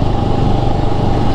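Motorcycles ridden by bikers on the Zoji La mountain pass, a high-risk road under construction, give a steady, close engine drone that holds throughout with no pauses and no talking.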